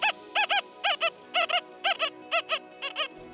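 A metal detector's short electronic beeps in pairs, their pitch shifting slightly as the target moves away from the search coil, fairly even rhythm, clear and alone.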